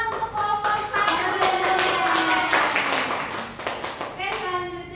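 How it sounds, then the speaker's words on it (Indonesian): Classroom applause for a student group during a school lesson, a lively patter of hands clapping with children's voices chattering and calling over it throughout. "Tepuk tangan untuk kelompok 1"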